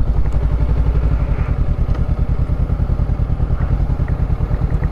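A 2023 Yamaha YZF-R7 motorcycle rolls along with the clutch pulled in, its engine burbling loud and steady with a rapid throbbing pulse and light mechanical clatter, close up and with no talk.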